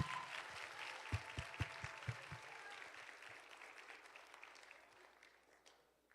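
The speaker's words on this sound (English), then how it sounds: "So please give a round of applause to our panelists." Audience applause for panelists at a university Black History program, a broad steady clatter of many hands with a few louder claps early, fading gradually toward the end.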